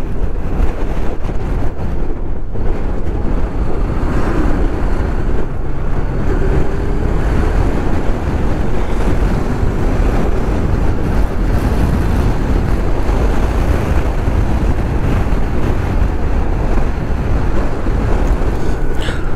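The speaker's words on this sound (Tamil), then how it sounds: "எப்படி சேறு மாதிரி ஓடிட்டுருக்கு தண்ணி. ரிவர், பெரிய ரிவர்" A large muddy river in the Ladakh highlands runs with a steady, loud broadband rush of flowing water, mixed with wind buffeting the microphone and no speech.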